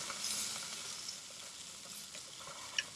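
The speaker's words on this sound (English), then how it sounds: "You can hear the sizzle" Lamb sizzles steadily on a hot portable propane grill, a Napoleon TQ1165PO, a soft, continuous crackling hiss with occasional small pops, close and fairly quiet.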